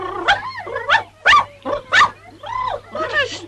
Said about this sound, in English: What a stupid dog you are!